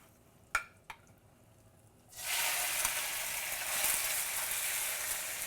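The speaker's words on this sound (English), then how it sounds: "as your oil starts to smoke, that's when you want to go in with your noodles." Rice noodles go into smoking-hot oil in a pan for Thai rad na. After a couple of faint knocks, a loud, steady sizzle of frying starts suddenly and keeps going with no talk.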